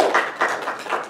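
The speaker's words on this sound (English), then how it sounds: "Let's give the Lord a hand clap of praise" A church congregation claps hands in praise during a Sunday morning service, a brief wash of many hands with a loose, pulsing rhythm, moderately loud and without talk.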